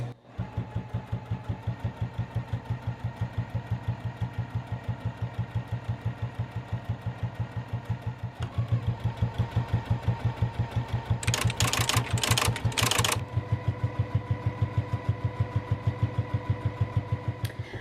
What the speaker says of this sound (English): we're just gonna do a straight stitch and just all the way down our entire jelly roll strips